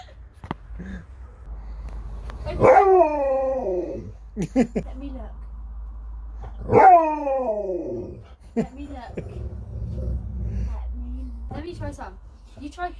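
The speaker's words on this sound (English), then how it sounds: "he's growling at me" A dog growls and gives whining, howl-like vocal bursts near the microphone, two longer drawn-out cries standing out, while people talk around it.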